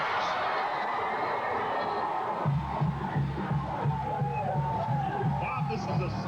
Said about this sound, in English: this is a stunned Alabama crowd, but a celebrating Vanderbilt crowd